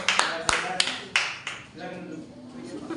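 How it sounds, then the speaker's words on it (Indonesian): Classroom applause during a student teaching practice session, with a few scattered claps and taps rather than sustained clapping, mixed with nearby voices. "Tepuk tangan untuk teman-temannya."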